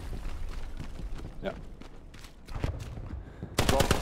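Hell Let Loose gunfire: sharp shots crack at irregular intervals against background battle noise, ending in a loud close burst, while players talk over the radio.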